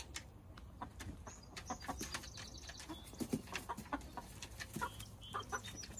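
Chickens, both roosters and hens on a hobby farm, clucking in a continuous faint chatter of short, overlapping calls, with no speech.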